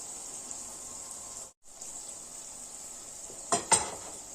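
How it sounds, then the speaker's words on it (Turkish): A steady, quiet sizzle of tomatoes frying in a pan, with a brief pause and two clinks of a utensil near the end. "Bu biraz iyice domatesimiz pişsin."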